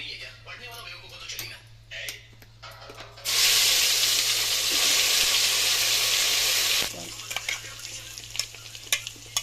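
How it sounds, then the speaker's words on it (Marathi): Masala spices and a bay leaf fry in hot oil for a village-style green chili chicken curry, a sudden loud hiss and sizzle bursting in partway through, preceded and followed by scraping stirring clicks. "तर पूर्ण मसाला टाकून घेतला त्याच्यात भाजून घ्यायचा आपल्याला"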